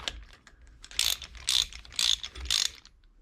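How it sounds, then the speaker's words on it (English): A ratchet socket wrench on the fork top nut of a CBR600F4 motorcycle clicks in four quick, loud bursts at a steady rhythm, heard close up with no talking. "I need a 24mm socket for the top and a 14mm socket spanner for to hold that damper tube still"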